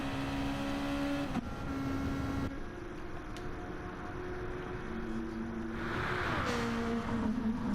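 A race car from a sim racing video game drives flat out down a straight in an endurance race. A steady, loud engine drone holds throughout, with a shift in pitch near the start and a brief change in tone toward the end.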